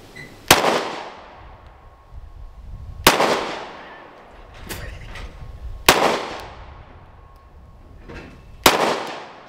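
A Glock 43X and a Canik Mete MC9 pistol fire at a shooting range, four loud sharp single shots spaced a few seconds apart, each with a ringing decay, plus fainter shots from other lanes in between.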